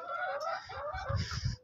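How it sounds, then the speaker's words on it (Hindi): A laying hen gives a short, soft run of throaty clucks, close by and quiet, heard alone without talk. "यहाँ पर भी एक जो है मुर्गी जो अंडे देती है,"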